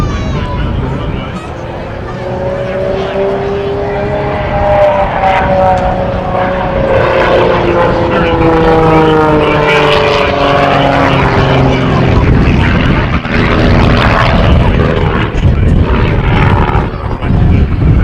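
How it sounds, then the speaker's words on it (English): A propeller-driven aerobatic plane performs at the Leesburg Airshow, its engine droning loudly and continuously with rising and falling pitch as it climbs vertically overhead and comes back down toward the runway, while an announcer talks over it. "makes the airplane ends the vertical overhead and brings the plane back down to the runway"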